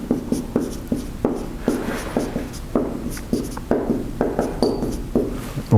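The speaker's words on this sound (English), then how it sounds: "Let me write it over here." Chalk or marker writing on a board during a university lecture, a run of quick scratchy strokes and taps in an uneven rhythm, close and fairly loud with no talking.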